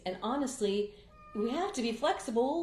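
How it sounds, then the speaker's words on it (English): A pet cat meows several times in the background of a home recording, its short rising calls mixed under a person's steady talking. "you can hear my cat in the background."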